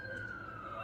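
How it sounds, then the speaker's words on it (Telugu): A fire engine siren sounds at a car garage fire in Kuwait, a single sustained, slowly falling wail heard at moderate distance over low background rumble. "11 ఫైర్ ఇంజన్లు వచ్చినాయి దాన్ని ఆర్పేదానికి"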